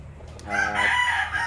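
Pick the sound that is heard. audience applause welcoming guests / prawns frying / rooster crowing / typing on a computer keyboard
rooster crowing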